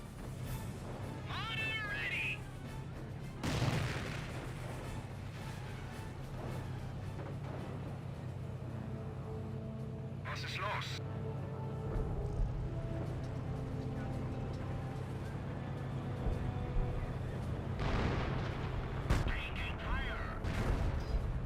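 Artillery barrage in the World War II strategy game Company of Heroes, with sharp booming impacts scattered over a steady low rumble of battle noise, several bursts at irregular intervals.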